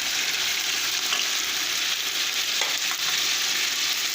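Red and green chillies with ginger-garlic paste fry in a pan while cooking bhindi, giving a loud, steady, close sizzle with faint stirring and no talk.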